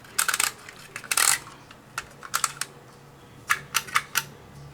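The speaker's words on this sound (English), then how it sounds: "I'm going to let it click a couple spaces" A Dymo label maker clicks forward a few spaces, producing close, crisp mechanical clicks in short uneven clusters with brief pauses between, alone without talk.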